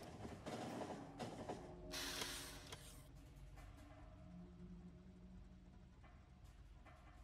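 A train pulls into a station in the game Factorio with a clattering mechanical rattle and a burst of hissing brakes, then a lower rumble as it settles, all heard very quietly alone.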